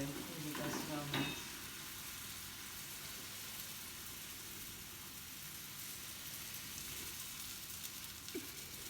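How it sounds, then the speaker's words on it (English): Pancake batter sizzles steadily in a hot frying pan on Pancake Day, a constant close hiss with a few brief clinks of a utensil near the start. "Oh, that's sizzling better, that is."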